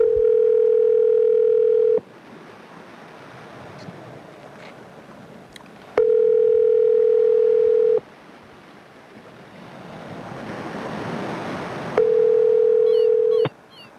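A telephone ringback tone sounds on an outgoing call: three long, loud, steady tones, each about two seconds, separated by roughly four seconds of quieter line hiss.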